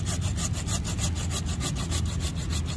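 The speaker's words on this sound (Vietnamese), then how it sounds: "em cưa thử cây mai cho anh chị xem ha" A hand saw cuts through a mai tree branch in steady, rapid back-and-forth strokes, close and loud, with a rasping wooden grind and no talk.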